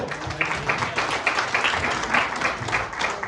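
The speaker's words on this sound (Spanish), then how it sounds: "Muy bien, un aplauso para este grupo." An audience applauds a group in a room, with moderately loud, uneven clapping running through the whole short stretch and a faint voice underneath.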